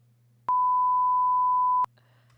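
A single electronic beep, a steady pure tone lasting just over a second, with clicks at its start and end over a low hum.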